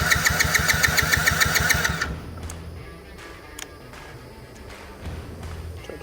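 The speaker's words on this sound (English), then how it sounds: "So it is kicking over, but it's just not wanting to fire." Long-sitting ATV engine cranking over in a fast, even rhythm for about two seconds without firing, then stopping, leaving quiet background rustling.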